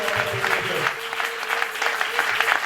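A church congregation applauding during a Sunday service, a steady wash of many hands clapping at once, moderately loud and continuous, with a faint voice and a held musical tone underneath.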